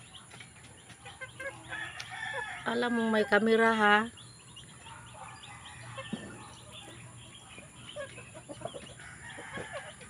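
Chickens cluck and squawk nearby in a rural Bohol yard while a dog bothers them, with one loud, drawn-out cry in the middle and scattered clucks afterward; a person speaks briefly.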